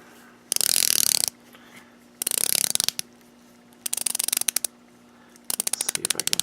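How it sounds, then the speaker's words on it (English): A Longines Hydroconquest 41mm automatic watch bezel turned by hand in bursts of rapid, crisp ratchet clicks, four separate runs of close, loud ticking with quiet gaps between them. "The bezel does rotate."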